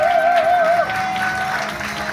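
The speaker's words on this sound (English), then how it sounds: "with a huge round of applause, let's give a congratulations to Dr. Williams." An audience at a university recognition award ceremony claps steadily, a moderate wash of applause with a brief tonal whistle or feedback line near the start.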